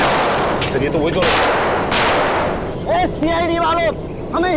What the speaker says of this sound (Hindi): संभाल के गोली चलाना, काफी लोग हैं।